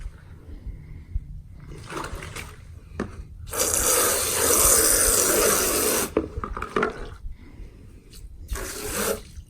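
A garden hose sprays water to refill tortoise water bowls at a tortoise barn, with short hissing bursts, then a louder steady gush lasting a few seconds, then more intermittent spurts.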